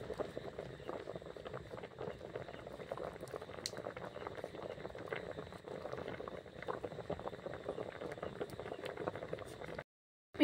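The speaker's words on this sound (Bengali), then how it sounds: "দেখুন দুধটা ফুটে উঠেছে।" Milk simmering in a pot on the stove before rice-flour pithe are added, a soft continuous bubbling and fizzing that stays fairly quiet and steady, then cuts out briefly near the end.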